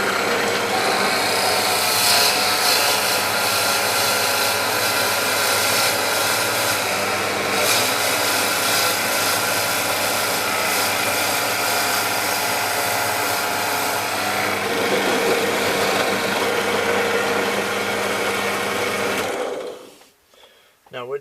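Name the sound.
power drill cutting through metal plate with wood underneath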